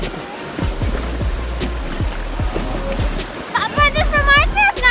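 Whitewater rapids on the Nantahala River rush steadily during a rafting trip, a broad, continuous roar of water heard close. People talk and call out over it.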